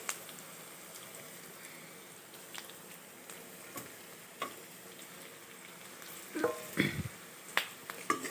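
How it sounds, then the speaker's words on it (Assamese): Fried magur fish cooks with onions in a pan, giving a faint, soft sizzle with scattered clicks and light scraping taps, quiet and close, with no talking. "এইকেইটা অলপ পিঁয়াজখিনিৰ লগত ভাজি ল'ম।"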